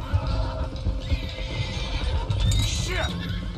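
A stallion whinnies in a Western-frontier scene from Red Dead Redemption 2, a rising then falling neigh near the end over steady hoof clatter, rumble and voices.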